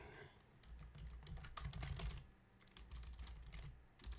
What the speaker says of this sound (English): It's a little bit of furious typing, quite so.